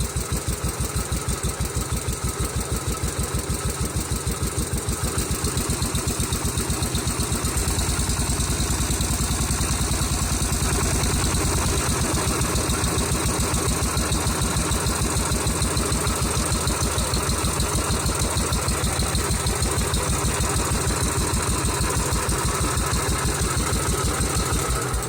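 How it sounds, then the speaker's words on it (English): A Massey Ferguson Executive tractor engine runs steadily, still cold, with a continuous loud, even chugging throb throughout and no talk. "So it starts right up, it runs great. It's a good little motor."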